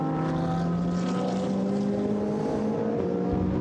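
A GT race car at Paul Ricard in a Blancpain GT Sports Club practice session drones steadily through corners, its engine note holding a sustained, fairly loud pitch with a slight shift near the end.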